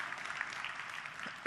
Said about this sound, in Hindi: ताली बजाओ यार इनके लिए सबसे।